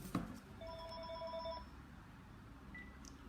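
A telephone rings once during a French-language talk, giving a short electronic ringtone burst of about a second, then a faint brief chirp, heard nearby with no voices over it.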